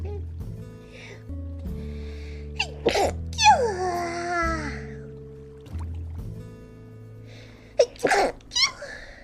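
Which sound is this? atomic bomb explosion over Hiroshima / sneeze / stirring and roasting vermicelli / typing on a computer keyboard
sneeze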